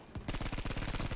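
Rapid automatic gunfire in the World War II shooter Battlefield V on Iwo Jima, a quick rhythmic burst of close shots after a brief pause, fairly quiet overall.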